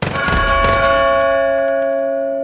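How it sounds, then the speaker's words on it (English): A bell in the video game Far Cry New Dawn is rung to call a trained bear, giving a loud metallic clang that rings on in a long, steady tone. "Hit that bell however you please, and the bear comes running"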